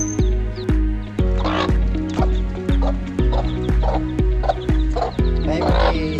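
A hen clucks repeatedly in quick, regular bursts, loud and close, with other fowl sounds mixed in the background.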